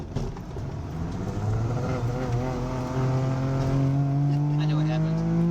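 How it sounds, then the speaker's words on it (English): Engine of a Saab 95 revving and dropping in pitch as the car downshifts without the clutch using freewheel, a steady close drone with shifting harmonics throughout. "Downshifting without the clutch."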